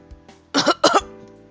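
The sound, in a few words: coughing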